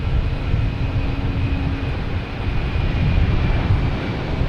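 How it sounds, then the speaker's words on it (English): A FedEx cargo plane passes at Boston Logan Airport, a steady broadband engine roar with a faint whine held throughout, moderately loud and unbroken, with no talk over it. "Oh, the FedEx plane."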